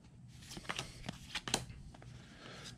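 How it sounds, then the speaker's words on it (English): Star Wars trading cards from a Topps Skywalker Saga box are thumbed through one by one, producing quiet papery flicks and snaps at an uneven pace, close up with no voices. "Let's go through the stack right here."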